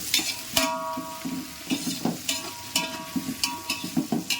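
Onions for a mushroom biryani fry in hot oil with a soft steady sizzle while a spoon scrapes and clanks against the pan in repeated, rhythmic stirring strokes, close and clear.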